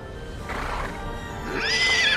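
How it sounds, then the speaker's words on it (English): A horse in Kingdom Hearts 3 gives a loud, high, wavering whinny near the end, preceded by softer rustling noises, with no voices. "Hey, no, that horse is scary!"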